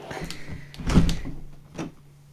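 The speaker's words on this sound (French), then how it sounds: "je vais fermer la porte" A door in a cabin is pushed shut, giving a soft wooden thump and a rattle midway, with scraping and small knocks before and after.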